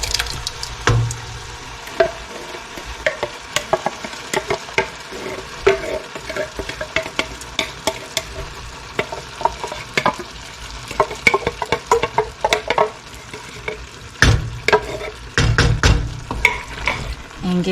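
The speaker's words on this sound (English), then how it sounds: "And give this a stir." A spoon stirs crushed tomatoes into a pot of spaghetti sauce, with repeated wet scraping and clunking strokes against the pot in an irregular rhythm and a thicker, sloshier stretch toward the end.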